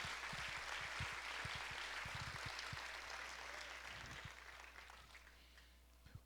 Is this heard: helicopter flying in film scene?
no